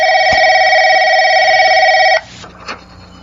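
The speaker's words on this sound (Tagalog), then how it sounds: "Ay, tumutunog ang telepono." A telephone rings with a loud, steady electronic tone lasting about two seconds before cutting off, followed by quiet room noise and a faint knock.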